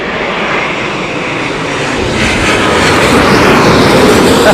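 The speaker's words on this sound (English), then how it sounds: "After this Dreamliner's touchdown" A Boeing 787 Dreamliner lands in strong winds at London Heathrow, its loud, broad engine roar building and swelling while wind noise runs underneath, with no talking.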